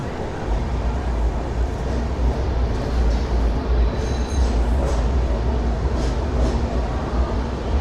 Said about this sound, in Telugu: మన ట్రైన్ వచ్చేసి 5 నిమిషాలు ముందుగానే అయితే వచ్చేసింది బలాషాకి